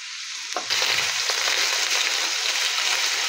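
Potatoes frying in a pan with vegetables, a loud steady sizzle that bursts in after a brief quiet start and then holds dense and even throughout.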